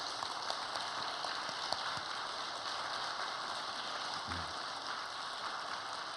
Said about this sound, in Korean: 우리 예천으로 위해서 수고 많이 해주십사 하고 한번 격려의 박수를 보내주시면 고맙겠습니다